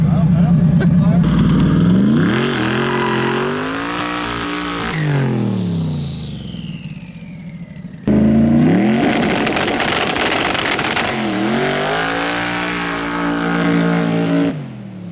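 A twin-turbo Ford Crown Victoria launches during no-prep drag-strip testing. The engine revs loudly and close by, rising and falling in two bursts, with a short cut between them and voices in the background.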